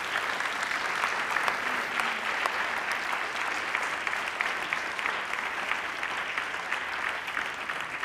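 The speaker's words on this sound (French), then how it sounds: "Et nous pouvons bien sûr à nouveau applaudir ces lauréats." An audience at an awards ceremony applauds the prize winners, a steady, even wash of many hands clapping that holds at constant strength throughout.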